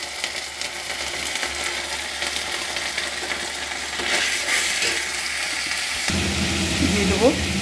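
Chilli powder, turmeric and garam masala sizzle in hot ghee in a pan for a mixed vegetable dish of neem, aubergine, jute leaves, potato, pointed gourd and pumpkin, a loud steady frying hiss that swells partway through, with a stirring clatter near the end.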